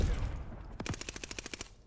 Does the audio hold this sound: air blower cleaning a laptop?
no